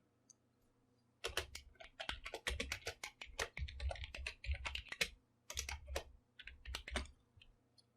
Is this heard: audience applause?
no